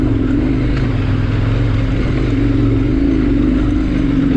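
Steady drone of a KTM 1090 S motorcycle engine riding and carving turns on a gravel haul road, an even, continuous mid-pitched rumble heard from the rider's position with wind noise and no talking.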